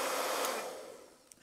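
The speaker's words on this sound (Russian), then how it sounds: "сегодня я буду создавать струю воздуха с помощью фена" A hair dryer blows a jet of air with a broad, loud whooshing roar that fades away over about a second, leaving near silence with a faint click.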